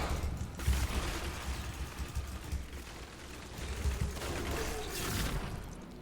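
Demon Hunter's Rapid Fire skill in Diablo 3, a steady stream of rapid mechanical shots rattling continuously for several seconds amid dense, busy game combat noise.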